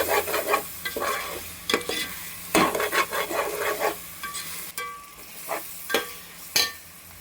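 Spices stirred in a hot pan for Nellore-style chicken biryani: a close spatula scrapes and rasps in irregular strokes over a soft sizzle, with sharp clanks against the pan and quieter pauses between.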